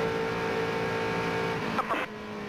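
Stock car engines roar steadily from inside a car during the 2001 Daytona 500, a loud continuous drone with a brief rising burst near the end.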